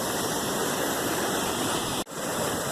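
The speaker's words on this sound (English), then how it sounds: "You can hear the power of this rushing water." Water from a canal wastegate rushes and roars in a steady, loud, close torrent, dropping into a river below, with only a brief dip near the end.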